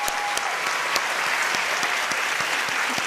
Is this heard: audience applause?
yes